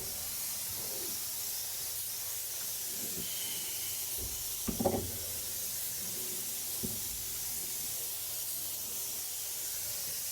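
Spray gun applying coating inside the trunk pan of a 1959 Cadillac, a faint steady hiss of atomised spray in a workshop, with a few soft knocks and one brief louder clatter midway.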